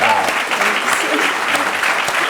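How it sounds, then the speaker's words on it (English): Steady applause from an audience at a live talk show event, a dense wash of many hands clapping at full, even loudness for a couple of seconds. "Can we give her a round of applause?"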